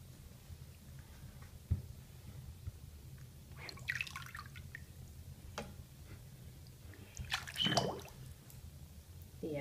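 Water trickles and gurgles into a Lego Titanic model pushed fully under water, with faint drips and soft squishing sounds and brief bubbly bursts near the start and again toward the end.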